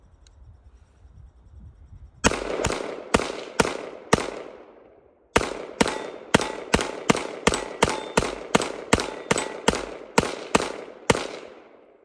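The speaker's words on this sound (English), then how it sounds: "I'm gonna go ahead and do a mag dump" An FN Five-seveN pistol in 5.7x28 fires a rapid mag dump: three quick loud shots, a brief pause, then a fast steady string of about fifteen sharp cracks, each with a short ringing decay, heard close.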